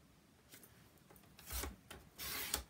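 A Cricut cutting machine slicing a card base from paper, its soft scraping passes rising into a couple of louder rasping sweeps near the end, fairly quiet and with no talk.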